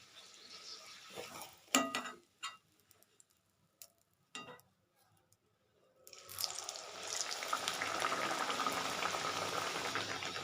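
Pea kachori deep-fry in hot oil, a rising bubbling sizzle that becomes loud and continuous after a few quiet clinks and handling noises.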